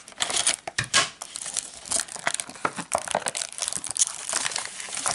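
A taped Pokémon XY booster pack wrapper is opened in a series of close, loud crinkles, crumples and short tearing bursts with uneven rhythm, the foil rustling continuously throughout.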